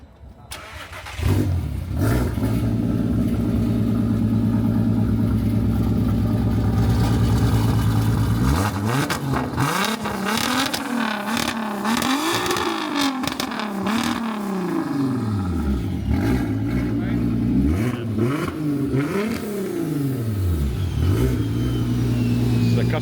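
A customer's street car fitted with a fuel regulator starts up in a dim garage, catches and idles, then revs repeatedly in rising and falling sweeps, loud and close, with occasional voices nearby.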